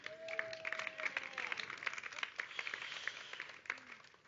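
A Sunday church congregation applauds the worship team: soft, continuous scattered clapping from a crowd, somewhat distant, with a brief whistle or voice tone early on.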